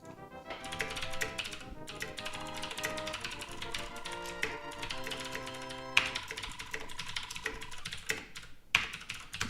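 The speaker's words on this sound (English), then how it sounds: "loud typing" Loud, rapid typing on a computer keyboard, a dense run of close clicks and taps over a steady tonal backdrop, continuing throughout with no talk.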